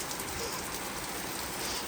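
Rain pours straight into a room, a dense, steady, close hiss of falling water with no pauses and no voices.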